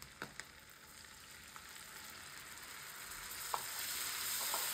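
Chopped garlic and chili frying in a pan with a splash of water, for chili cauliflower, give off a steady, fairly faint sizzle with a few sharp crackles and pops near the start.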